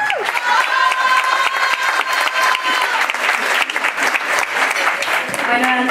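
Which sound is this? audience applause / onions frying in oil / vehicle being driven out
audience applause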